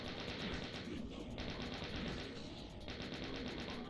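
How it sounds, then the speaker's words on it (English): A chaingunner firing a chaingun in Doom, a rapid continuous rattle of shots, fairly faint and distant, with brief dips in the stream of fire. "I guess there's a chain gunner out there"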